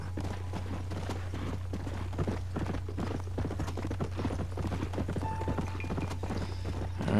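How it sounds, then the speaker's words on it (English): Wild horses galloping in the Red Dead video game, a rapid, continuous patter of hooves at moderate distance over a low, steady hum, with no talking. "They're wild horses."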